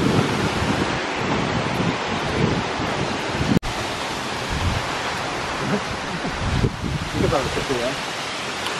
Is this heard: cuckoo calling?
no